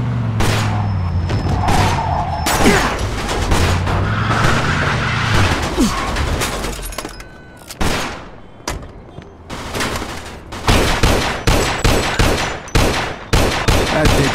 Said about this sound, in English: Got some nut job here shooting a gun